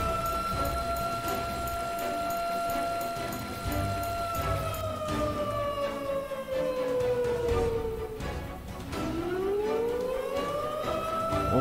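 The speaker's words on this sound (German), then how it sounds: "die Tornado-Sirene, die fällt auch schon auf" A tornado siren in the storm-chasing video game Storm Chasers wails in long rising and falling tones, loud and steady, with rain pattering underneath.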